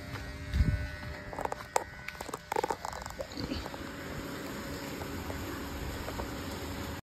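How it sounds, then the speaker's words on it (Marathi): An electric water pump motor runs as a pipeline is filled, giving a steady, fairly loud mechanical hum that settles in after a few irregular knocks and rattles and continues unbroken to the end. "आलोच, मोटर चालू केली, आता पाईपलाईन भरतो."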